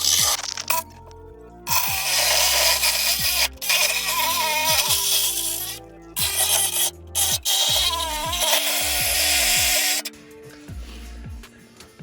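Power cutting tool slicing through the sheet-metal back of a minitruck cab in a shop: a loud, continuous harsh grinding rasp with pitch wavering as the blade bites, briefly pausing and restarting, then stopping near the end.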